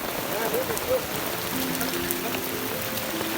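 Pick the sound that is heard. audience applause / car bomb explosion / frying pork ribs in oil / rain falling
rain falling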